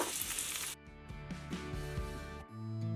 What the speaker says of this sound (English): While we're waiting for those apples to saute